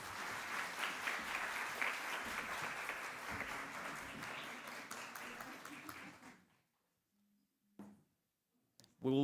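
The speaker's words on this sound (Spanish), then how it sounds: "Por favor, un aplauso para nuestros panelistas." Audience applause for panelists at a Colombian brain health congress, dense clapping sustained for about six seconds before fading into near silence, followed by a couple of brief faint noises.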